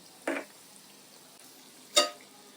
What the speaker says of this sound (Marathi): अलटून पलटून आपण हे शेकून घेऊया